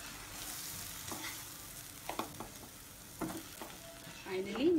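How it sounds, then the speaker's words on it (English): Roasted besan being stirred in a frying pan, a quiet sizzle under a few distinct scrapes and knocks of a spoon against the pan, with a louder clatter at the end. "And now put this roasted besan."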